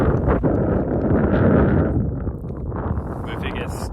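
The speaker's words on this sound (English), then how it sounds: "It's already too windy, but give her a go." Wind buffets a microphone outdoors on a trail run. The low rumble is loud at first and eases off, and voices can be heard talking under it.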